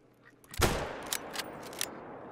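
A rifle shot at a duck in the hunting video game Call of the Wild, Layton Lakes. One sharp, loud report rings out, followed by a few fainter cracks and echoes.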